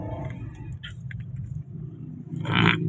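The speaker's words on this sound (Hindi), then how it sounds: "ये ट्रैफिक जैम है।" Traffic jam on a city road in Okara, Pakistan, outside the grain market where roads are dug up: a steady low rumble of idling and creeping engines, swelling into a louder passing vehicle near the end.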